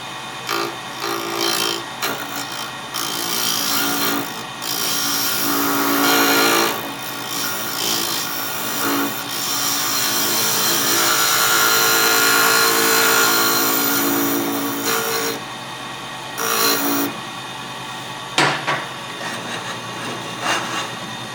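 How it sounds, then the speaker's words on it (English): A power tool with a carbide bit grinds down a ring of pink wood core and veneer micarta, a continuous abrasive rasping whine that swells and briefly stops as the bit is lifted away. "I'm going to use a carbide bit just to bring it down so I don't have to do so much sanding."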